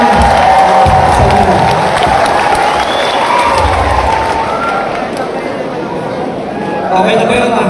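A political rally crowd claps and cheers in a loud, continuous wash of applause, with crowd chatter mixed in throughout.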